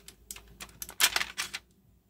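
A number 2 nib on a Devanagari calligraphy fountain pen scratches across paper in a handful of short, quiet strokes, with a slightly louder cluster of scrapes in the middle, close and without speech.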